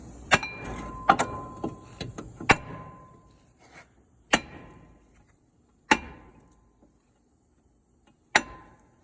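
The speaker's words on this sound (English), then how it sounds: "I smack them right beside the wheel stud, all the way around. Good, healthy smack, don't miss." Hammer blows striking a brake rotor right beside the wheel studs during a brake job, a cluster of sharp metallic smacks followed by three more spaced, ringing hits with short decays.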